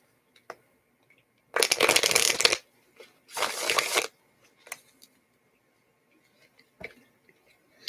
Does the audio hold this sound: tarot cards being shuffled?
yes